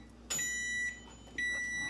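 A kitchen oven beeps after preheating while pumpkin spice bread is being made, two clear high electronic tones, the first lasting about half a second and the second following after a short gap, with no talking.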